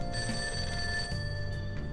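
A telephone rings steadily with a repeating electronic bell tone, heard from downstairs in the video game Persona 5, filling the whole stretch with a low background hum beneath it.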